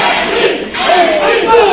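A wrestling crowd roars and yells for the champion at an Empire Wrestling Federation show, a loud, dense wall of cheering and shouts that never lets up.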